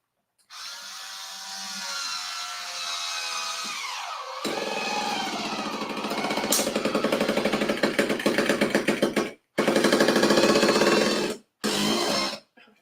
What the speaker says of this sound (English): It's my wine opener